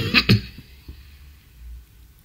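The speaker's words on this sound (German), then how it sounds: "Und mir kratzt der Hals noch immer, deswegen huste ich auch." A person with a scratchy throat coughs twice in quick succession, close and fairly loud, followed by faint throat noise and quiet room tone.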